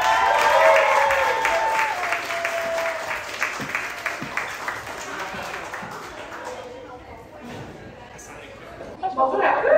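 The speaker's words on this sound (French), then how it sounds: "Je vous demanderai d'accueillir chaleureusement Ariane avec des cris, des applaudissements, toute l'équipe." Team audience welcoming a speaker at a Démonte ton mythe event, with loud applause and cheering that fades over several seconds, and voices over the clapping toward the end.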